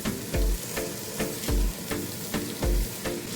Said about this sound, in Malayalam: അരി ചേർത്തിട്ട് ജസ്റ്റ് ഒന്ന് മിക്സ് ചെയ്തെടുക്കാം